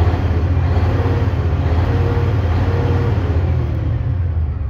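A Volvo VNL semi truck with a 500 hp engine accelerating from highway speed, a steady heavy low rumble and drone that stays loud and constant with no voices over it.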